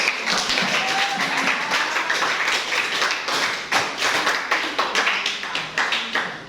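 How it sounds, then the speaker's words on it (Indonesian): A high school chemistry class claps for classmates returning to their seats, with a dense burst of hand claps that settles into rhythmic, evenly spaced group clapping near the end. "Coba tepuk tangan untuk mereka."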